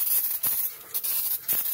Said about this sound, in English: You want to spray this down.